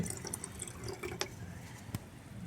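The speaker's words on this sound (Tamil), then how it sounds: "இந்த ஸ்ப்ரேயரில் ஒரு லிட்டர் தண்ணி எடுத்துருக்கோம் இதில் இந்த கத்தாழை ஜூஸ் நம்ம ஊற்றுறோம்" Aloe vera juice poured into a sprayer holding a litre of water, a soft trickling splash with faint drips and a few sharp knocks, quiet and close.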